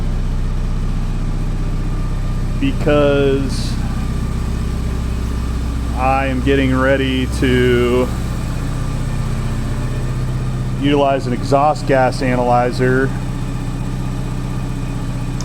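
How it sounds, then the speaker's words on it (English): A 1984 Porsche 944 naturally aspirated engine idles steadily while warming up, a constant low rumble running underneath as someone speaks close by in several bursts. "I am letting the engine warm up right now"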